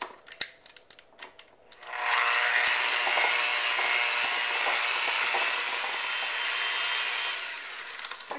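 An electric mixer beating orange yogurt bread batter made with orange juice and zest runs steadily for about five seconds with a bright whirring hum. A few light clicks come before it starts and after it stops.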